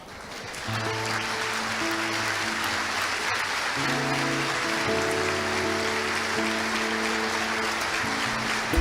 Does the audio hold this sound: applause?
yes